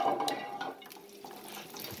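Melted butter poured into a hot pan while cooking machaca, with a faint, quiet sizzle and light clinks of cookware near the start that fade to a soft hiss.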